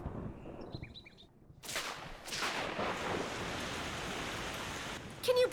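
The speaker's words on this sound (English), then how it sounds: "Now it's raining." Rain begins pouring in after a quiet moment with faint birdsong, a steady broadband hiss that swells and holds loudly to the end, with a brief sharper burst near the close.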